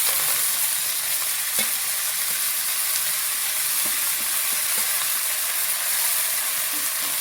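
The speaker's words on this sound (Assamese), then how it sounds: "অকণ ভালকৈ ভাজি ল'ম" Leafy greens fry in a pan with onion and chili, giving a continuous loud sizzle with faint scraping taps of stirring running under it and no talk.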